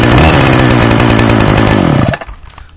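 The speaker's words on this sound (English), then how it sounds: "I'll do my weed whacker. Always starts first pull." A cold two-stroke weed whacker, started on the first pull without choke or prime, runs loud and close with a buzzing, rattling engine note before abruptly cutting off.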